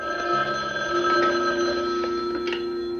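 A telephone rings in a played drama scene, a loud steady electronic trill heard close and alone with no voices.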